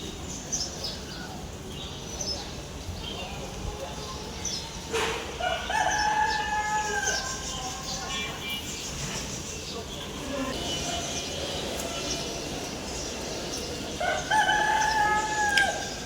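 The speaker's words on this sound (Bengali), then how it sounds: "দেখছেন মোরগে ডাকতেছে সকালবেলা।" A rooster crows a few times in the morning at some distance from a residential street, with other fowl around, clearer bursts standing out over steady outdoor background noise.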